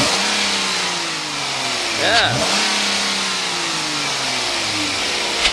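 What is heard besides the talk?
Chrysler 300 V6 engine revving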